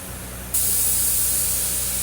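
A paint spray gun blows only air to clean dust off fresh paint during a spot repair, a sudden sharp hiss that starts abruptly and holds steady and close.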